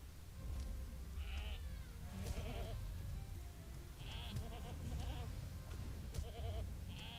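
Goats bleat in a video game, several short calls scattered across a steady outdoor ambient bed, with a voice talking quietly in the background.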